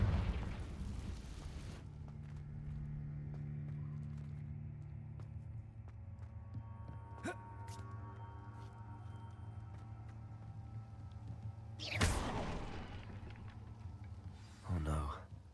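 A Confringo blasting spell explodes in Hogwarts Legacy: a loud burst at the start, then a steady low rumble, a sharp crack midway and another strong blast near the end, each dying away quickly.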